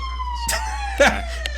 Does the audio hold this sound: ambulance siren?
yes